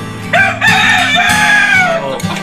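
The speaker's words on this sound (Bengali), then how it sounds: "এই যে দেশি ক্রস ব্রিডের মোরগ, দেশির সাথে আপনার টাইগার ক্রস করে আপনার এই মোরগ বাচ্চাটা আপনার হয়েছে" A desi and Tiger cross-breed rooster on a Dhaka rooftop cage farm crows once, loud and close, a long rising then falling call lasting about two seconds over a low background hum.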